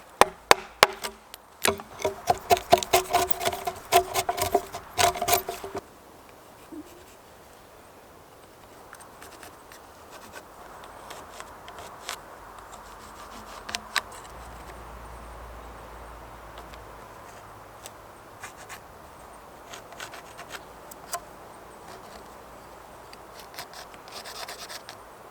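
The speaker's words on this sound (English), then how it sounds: "These notches are so narrow that you can't get an axe in there, so I'm using the chisel straight away." A hand chisel cuts narrow notches in timber outdoors, beginning with a quick run of sharp close taps and scraping. Quieter rasping cuts follow, spaced out and faint, over a low background hush.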